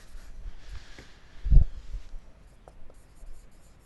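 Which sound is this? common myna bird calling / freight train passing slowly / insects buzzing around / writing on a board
writing on a board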